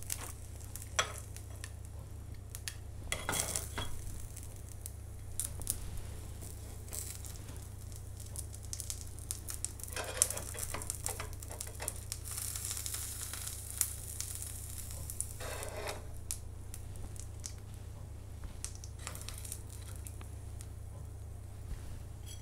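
Sliced pork belly (samgyeopsal) sizzles steadily on a grill, a soft even hiss broken by scattered sharp pops and spits, close up with no voices.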